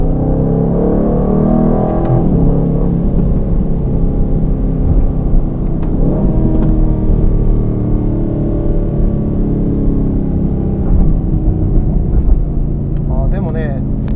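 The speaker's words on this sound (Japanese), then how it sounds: "エキゾーストのバルブが開いて少しマフラーサウンドが" Aston Martin Vantage in Sport Plus mode with its exhaust valve open, driving on a Tokyo street: a steady, deep engine and exhaust rumble from inside the cabin, with a voice speaking over it.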